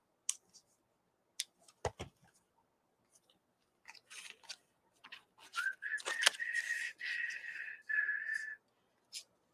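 Scissors trim decorative paper in a quiet room: scattered sharp snips and clicks come first, then a denser run of cutting with a thin squeaky tone before it falls quiet.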